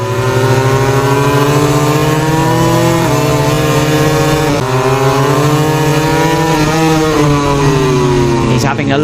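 Ducati MotoGP motorcycle at the Catalunya race winding up through fourth, fifth and sixth gear, a loud sustained engine howl rising in pitch with brief dips at each shift, under continuous race commentary.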